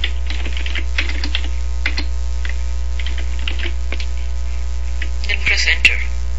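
Keys clatter in short bursts on a computer keyboard while building a simple web browser program in Visual C++, the clicks fairly close over a steady mains hum, with a quicker flurry near the end.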